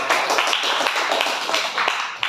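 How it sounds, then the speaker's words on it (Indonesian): A classroom of high school students clapping for a student group, a short, uneven burst of hand claps close by with light taps and room noise, fading unevenly. "tepuk tangan untuk kelompok"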